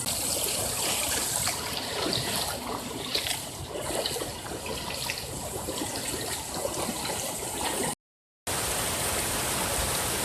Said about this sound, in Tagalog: Ito yung ilog Agos.